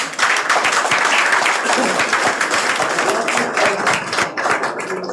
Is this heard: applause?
yes